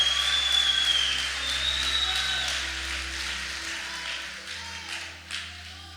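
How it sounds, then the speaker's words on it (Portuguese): A church congregation applauds at a worship service, a broad wash of clapping that fades gradually, with a low hum steady underneath and a couple of louder claps near the end. "aplaude com mais força"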